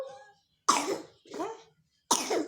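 A young child with flu coughs in two close bursts, then a third, harsh and breathy, right near the mic with no talk over it.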